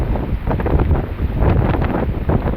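Strong gusting wind buffets the microphone during a cyclone with heavy rain, a dense continuous roar loud and steady throughout with no voices.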